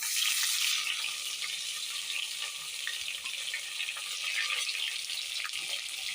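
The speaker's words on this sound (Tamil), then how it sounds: "இப்போ வெங்காயம் வந்து நல்லா வதங்கட்டும்" Sliced onions sizzle steadily in a pan for Tamil-style lazy dal rice, a continuous bright hiss that stays loud and even throughout with no talking.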